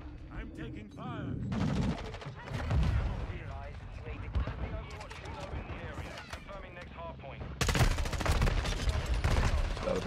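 Bursts of rapid automatic gunfire from the Call of Duty: Modern Warfare II video game, with a loud sustained volley near the end, heard alongside in-game voice callouts and battle noise.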